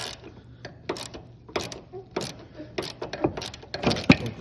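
A ratchet cranks on a rusted lower ball joint bolt in a series of irregular clicking strokes and metallic knocks, close and fairly loud, with no voices.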